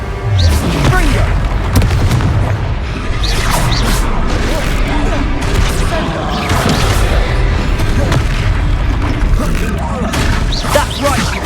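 Confringo blasting spell explosions burst in a troll fight in Hogwarts Legacy, dense booms and crashes with whooshes layered over a constant loud battle din.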